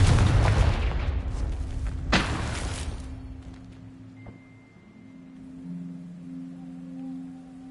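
A Confringo blasting spell explodes in the Hogwarts Legacy video game: a loud, dense burst opens the moment, a sharp boom cracks through about two seconds in, and then it fades into a low ambient hum with faint tones.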